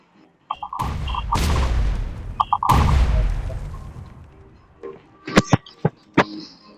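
Loud bursts of booming gunfire and explosions, two long heavy blasts followed by several sharp, quick shots, with no talking.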